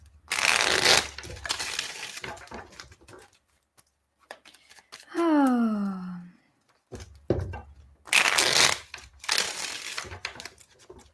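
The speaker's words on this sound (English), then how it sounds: "Let me do the shuffling." Tarot cards are shuffled by hand in bursts of crisp, riffling rustle up close, separated by quiet pauses, with a brief rising-and-falling whistle-like tone in the middle.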